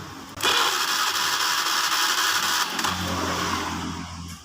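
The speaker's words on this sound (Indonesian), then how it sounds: "sekarang langsung kita starter" Motorcycle electric starter cranking the engine, a loud steady whirring drone that begins abruptly and holds for several seconds, then settles into a lower rumbling tone near the end, close by with no talking.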